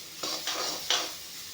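Boiled beans frying in a pan, three quick stirring scrapes over a soft steady sizzle, close and fairly quiet, with no speech.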